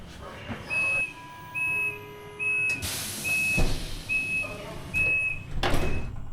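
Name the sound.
EuroCity train doors closing at Poznan station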